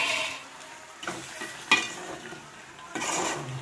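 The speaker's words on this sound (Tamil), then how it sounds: "இப்போ நம்ம கட் பண்ணி வச்சுருக்கிற காடையை சேர்த்துக்கலாம்" Cut quail pieces go into hot masala in a pan and are stirred, giving a soft sizzle with scraping and clinks of a spoon against the pan in irregular bursts, close by and moderately quiet.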